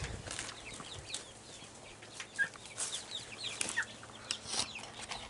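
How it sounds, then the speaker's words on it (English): Several chickens cluck and chatter softly at a distance on a California homestead farm, with scattered faint calls and light rustling in a quiet outdoor setting. "You guys want to see some chickens and ducks?"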